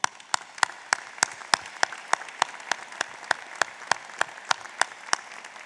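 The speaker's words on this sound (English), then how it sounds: "I think that deserves a round of applause." An audience at a 2019 university doctoral commencement and hooding ceremony applauds, a crowd's clapping under a run of loud, evenly spaced close claps from one nearby person.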